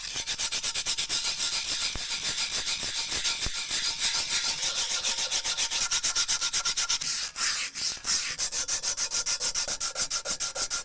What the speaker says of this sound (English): To do that, I'm just going to use a little bit of emery cloth.